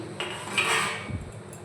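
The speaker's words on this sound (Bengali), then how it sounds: "আমি এখন ঢাকনাটা খুলে নিচ্ছি" Metal lid of a pressure cooker lifted off after cooking, a short scrape and clink of metal against metal, close and moderately loud with no talk.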